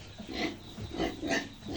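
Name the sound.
pigs grunting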